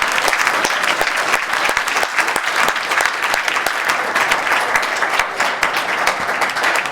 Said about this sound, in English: I think we ought to give Roger a big round of applause for his 40 years of service here.